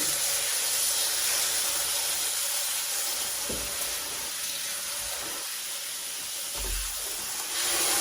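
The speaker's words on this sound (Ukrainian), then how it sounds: "Викладаю його на гриль." Rosemary-marinated meat sizzles on a hot grill, a loud, continuous close hiss, like steam, with a few soft thumps as the meat is settled, and no voices.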